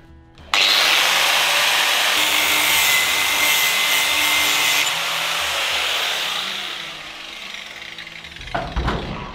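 A power saw starts abruptly and cuts steadily through a part on a turbocharged Ford Fairlane drag car, a loud, close whine with a gritty edge, then slows and trails off with some clattering at the end.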